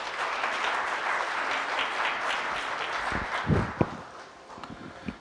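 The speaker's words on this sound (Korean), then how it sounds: "박수 부탁드립니다." Applause from a conference audience, steady and moderately distant for several seconds, thins out toward the end with a few scattered claps and footsteps as it fades.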